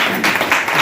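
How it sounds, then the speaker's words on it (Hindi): Loud, dense applause from a group at a business training session, a continuous wash of many hands clapping together over a brief moment, with some voices mixed in. "एक बार जोरदार ताली।"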